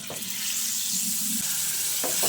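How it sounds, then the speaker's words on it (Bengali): Water poured into frying masala for a vegetarian potol (pointed gourd) dish, giving a steady broad hiss and sizzle with stirring scrapes. It grows slightly louder toward the end and plays alone, without speech. "তারপর এর মধ্যে জল দিয়ে দিচ্ছি"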